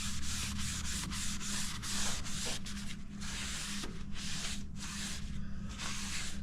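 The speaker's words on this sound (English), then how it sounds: "I just got some mineral spirits in a little bucket here, and we're just going to wipe the dust off." A rag soaked in mineral spirits wipes dust off a vintage camper shell, making close, rhythmic rubbing swishes in quick back-and-forth strokes with short pauses between passes.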